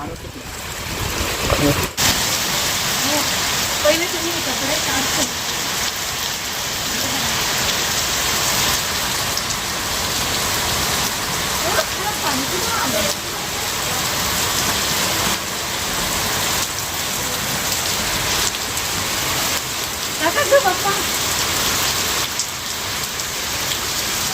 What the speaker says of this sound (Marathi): पहिला दिवस पावसाचा आणि आनंद हा घेतलाच पाहिजे